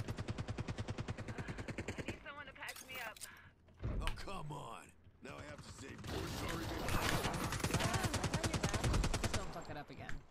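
Gunfire crackles in the shooter game Ascendant, rapid automatic bursts and clanking mechanisms mixed with voices talking over the action, fairly loud and dense.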